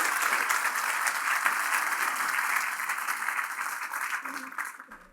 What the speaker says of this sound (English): special round of applause for my friend of 70 years, Jeffrey.